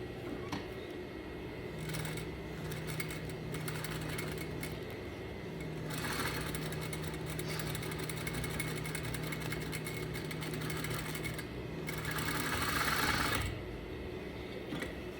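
A sewing machine stitches to secure a double welt pocket, its motor running in steady humming bursts with short pauses between runs, close by and with no talking.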